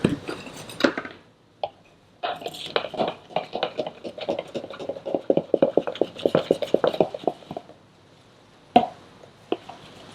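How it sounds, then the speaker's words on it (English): Cupcake batter being stirred in a bowl, a series of soft, uneven scraping and plopping strokes that cluster into quick bursts, close and moderately quiet, with short pauses between. "just stir it again"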